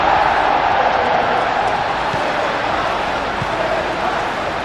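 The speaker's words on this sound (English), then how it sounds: "The crowd are reacting to that now." Stadium crowd in an eFootball PES 21 match between Sunderland and Manchester United, a steady broad roar with swelling murmur that holds at even loudness throughout, dense and continuous like a packed ground reacting to play.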